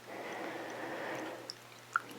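Knitted wool fabric soaked in lukewarm water is gently squeezed out, giving a soft, faint wet squishing and trickling, followed by a couple of isolated drips.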